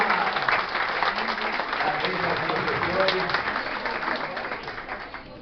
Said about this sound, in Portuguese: Salve de palmas para esse nosso grande amigo